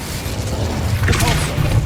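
Bombarda and Incendio spells cast in the Hogwarts Legacy video game: a muffled magical boom swells over a low rumble, with a brighter crackling burst in the middle of the two seconds.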